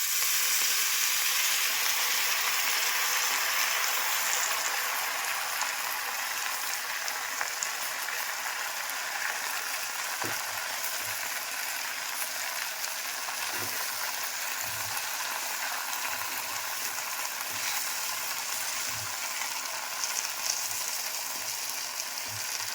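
Taro greens fry with a hilsa fish head in a pan, giving a steady, close sizzle that holds for the whole stretch, with a few soft stirring knocks along the way.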